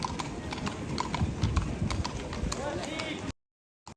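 Horse hooves clip-clop on the streets of Salzburg, a brisk, close, repeated rhythm over street ambience for about three seconds before cutting off.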